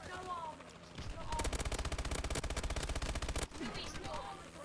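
Sustained rapid automatic fire from a warbird's wing guns in Call of Duty: Advanced Warfare exo survival, a dense, evenly pulsed burst of about two seconds over game ambience, with faint voices before and after.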